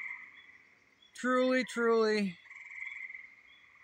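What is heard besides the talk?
bullfrogs croaking at night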